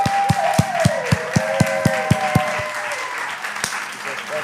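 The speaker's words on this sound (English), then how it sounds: "Let's clap it up for him." An audience applauds for a community member introduced as a brother, with steady clapping mixed with a few sharp louder claps, and a voice talking over it, the applause fading toward the end.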